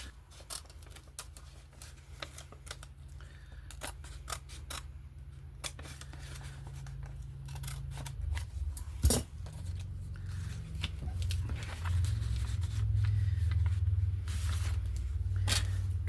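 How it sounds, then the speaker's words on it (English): Scissors or a blade snipping a hole in reused packaging material during a craft project, producing short, quiet, scattered cuts and rustles over a low background hum. "I want to cut this hole first."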